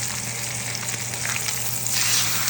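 Steak searing in butter in a cast iron pan gives a steady, close hiss that crackles continuously for the whole stretch and swells brighter and louder near the end, with no voices.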